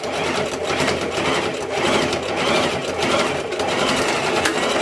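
A sewing machine top-stitches a fabric bow in a continuous, close, whirring run with slight pulsing changes in speed and no pauses or speech.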